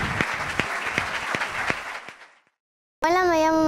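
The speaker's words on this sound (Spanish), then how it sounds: "un aplauso una vez más" Audience applause at a Basque Week event, a brisk round of clapping that fades out into silence, then a voice begins speaking.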